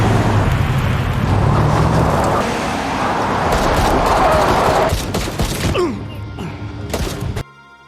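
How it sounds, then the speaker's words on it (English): Rapid bursts of pistol and automatic gunfire ring out in a cartel shootout movie scene, mixed with vehicle and road noise, the volleys loud and dense before cutting off abruptly at the end. "Armed with only a pistol, he drops two cartel shooters and keeps firing from cover."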